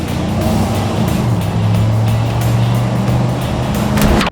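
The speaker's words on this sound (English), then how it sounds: "Today we have a 1992 GMC Yukon GT, factory four-wheel drive with" A 1992 GMC Yukon GT 4x4 with a 5.7 engine on a test drive at 50,000 miles, heard from inside as a loud, steady engine drone with a low tone that shifts in pitch, cutting off abruptly at the end.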